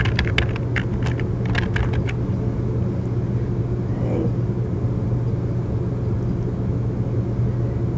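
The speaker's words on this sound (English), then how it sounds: "you would type in the amount" Quick keystrokes on a computer keyboard, a brief burst of close, crisp clicks over a steady low hum of background noise, then the tapping stops and only the hum remains.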